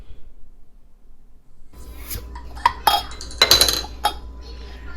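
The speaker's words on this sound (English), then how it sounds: "Put this lid on it." A lid set onto a container of sourdough starter with a few close clinks and clattering taps, after a quiet start.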